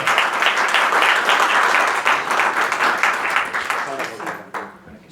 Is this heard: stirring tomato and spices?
no